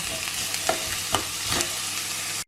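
Sliced onion sizzling as it fries in coconut oil, stirred with scrapes and a steady hiss, close and alone without talk.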